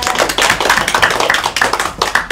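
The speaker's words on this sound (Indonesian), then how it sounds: "Tepuk tangan buat teman kalian" A class of geography students claps for classmates during a microteaching lesson, brisk close clapping from a small group in a classroom, steady and fairly loud for a couple of seconds.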